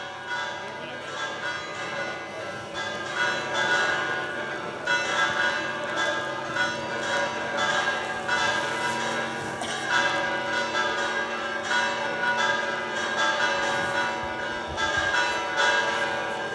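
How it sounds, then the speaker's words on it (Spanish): Church bells of the Templo Mayor ring out on Easter Sunday in a continuous peal of overlapping, resonant strikes. The sound is fairly distant, and a voice may faintly talk beneath it. "suenan pues las campanas del Templo Mayor anunciando que Cristo ha resucitado"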